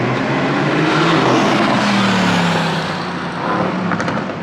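Mercedes-AMG GT accelerating hard from a launch-control start, a loud, close engine roar that builds steadily and holds for several seconds before easing slightly, with no talking.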